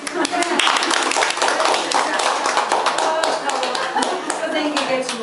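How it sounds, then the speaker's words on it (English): Hands clap together at a Fudan–Groningen double degree graduation dinner, a dense burst of loud, close applause that continues steadily while voices talk over it. "Clap, clap."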